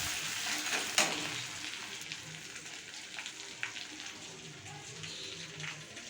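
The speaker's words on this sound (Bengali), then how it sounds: "পেঁয়াজটা লাল লাল করে ভাজা হবে" Onions with black cumin fry in a pan, giving a soft, steady sizzle with faint clinks and scrapes of stirring, heard fairly close and alone.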